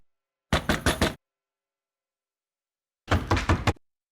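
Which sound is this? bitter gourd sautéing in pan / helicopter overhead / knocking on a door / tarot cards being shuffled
knocking on a door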